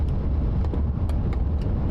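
Steady low rumble of motorcycle and vehicle traffic passing on a road during a stormy day in South Dakota, a continuous drone without voices.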